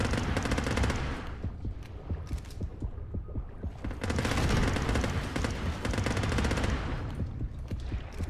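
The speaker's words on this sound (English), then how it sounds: "You can stop shooting." Sustained machine gun fire from the underwater shark-hunting video game Depth, long dense bursts of rapid shots rolling continuously with short dips between volleys, loud and close with no talking.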